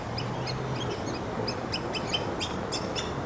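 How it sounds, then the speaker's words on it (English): Soft, high whistling calls from several black-bellied whistling ducks, repeated in short bursts over a steady outdoor background hum. "we call black-bellied whistling ducks"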